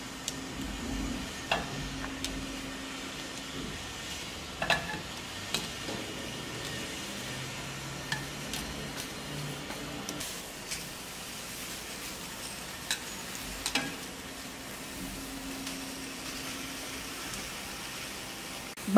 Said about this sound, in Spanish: Aquí ya tengo mi sartén donde voy a asar los nopales.